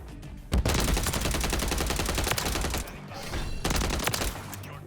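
Rapid, loud bursts of Striker submachine gun fire in Modern Warfare 3 run almost continuously, broken by a brief pause before the shooting resumes.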